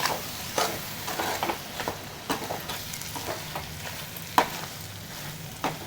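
Goat lungs frying in oil in a pan for a lungs fry, a low crackling sizzle with irregular light scrapes and taps of stirring throughout.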